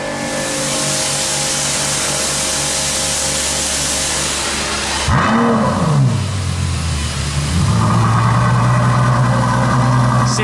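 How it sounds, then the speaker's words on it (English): Lamborghini LP640 V12 idling loudly and steadily in a garage, then a sharp rev rises and falls about halfway through before settling into a higher, rougher idle. "Seriously, one of the best engine noises ever, this V12."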